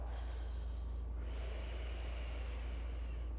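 Heavy breathing during a yoga class, a long hissing exhale fading into a sharp intake of breath over a constant low background hum.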